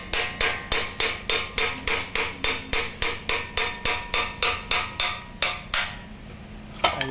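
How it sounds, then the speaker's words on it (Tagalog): A hammer strikes a pelletizer machine's grinding die to loosen it, a steady run of about twenty sharp metallic blows, close and loud, then a brief pause and a couple more hits. "pukpukin nyo naman pataas. Dahan-dahan lang po ang pagpukpok"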